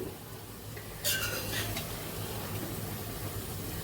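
Brinjal and drumstick curry being stirred in a pan, a brief scraping burst of the spoon against the metal near the start, then a soft low rumble of cooking.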